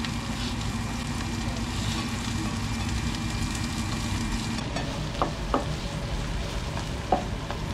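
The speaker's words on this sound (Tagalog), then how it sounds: "Ito na lang ang lulutuin kong maigi itong sibuyas para mabango." Onions fry in a pan with a soft, steady sizzle that holds throughout, joined later by a few sharp clinks and taps of a utensil.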